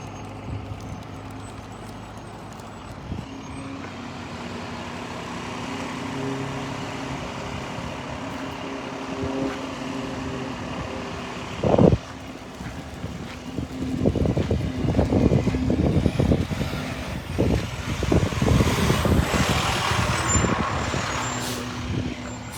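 Fire and rescue trucks from a multi-agency wildfire response arrive and idle at a roadside scene near Redmond. A low diesel rumble runs under wind noise, with an air-brake hiss and rising engine and traffic noise later on.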